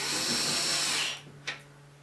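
A power driver whirs steadily for about a second, driving screws back into nylon bushings on a Sequoia rear door latch, then stops, followed by a brief click.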